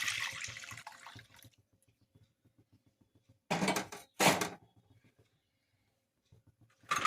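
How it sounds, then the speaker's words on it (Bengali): Watermelon juice pours from a large bowl into a kadai pan in two short, splashing liquid bursts, close by, among quiet clinks and handling noises. "কড়াতে ঢেলে দেব"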